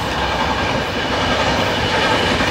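Ganga Sutlej Express train running steadily on rails, a loud continuous rumble of wheels and wagons close by with no voices.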